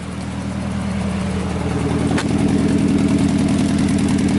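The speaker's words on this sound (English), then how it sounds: "so yeah, it runs and it's idling fucking mint now." A Nissan 240SX car engine idles steadily and close by, a continuous low rumble with an even pulsing rhythm and a faint rise partway through.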